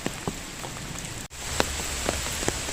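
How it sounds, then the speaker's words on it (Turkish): Heavy rain falling at Büyük Göl, a lake in Bolu, a constant close patter with scattered louder drops hitting nearby surfaces and a momentary dropout midway, no voices. "Çok da yağmur yağıyor."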